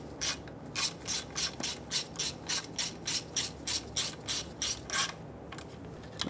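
A ratchet spins in quick, even bursts of rasping clicks, roughly fifteen strokes in a steady rhythm, close and clear, running in oil pan bolts on a 2012–2017 Toyota Camry 2.5L four-cylinder.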